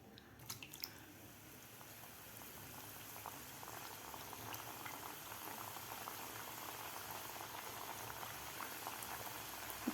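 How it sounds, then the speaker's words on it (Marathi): Wheat flour and jaggery sweets fry in hot oil, giving a steady, soft bubbling sizzle that runs evenly throughout without any voices. "आता बाकीच्या सुद्धा आपल्याला अशा प्रकारेच तळून घ्यायच्या आहेत."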